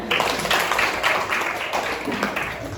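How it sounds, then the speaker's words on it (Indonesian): A classroom of students claps hands together in a quick, rhythmic burst of repeated claps, fairly close and lively, during a classroom ice-breaking activity. "Oke, tepuk tangan."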